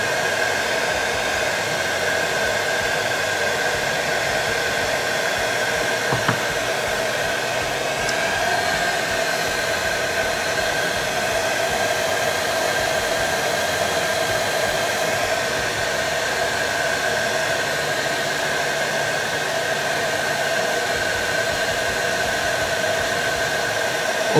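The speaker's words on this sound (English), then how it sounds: "my air dryer." A small hair dryer blows steadily to dry paint on a plastic Zvezda Art of Tactic Soviet machine-gun miniature, a loud, even whooshing hiss that runs unbroken and close up, alone without talk.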